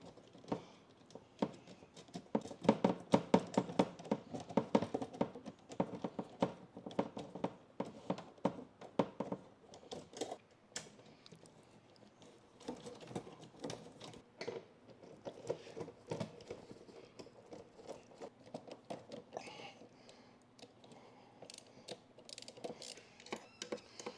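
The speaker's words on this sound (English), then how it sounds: "I've got an Allen screwdriver and a 10mm wrench, and we'll just tighten these down." Allen screwdriver and 10mm wrench tighten screws on a Harley tour pack mount, giving faint, close clicking and ratcheting with scattered small metallic taps and handling noises throughout.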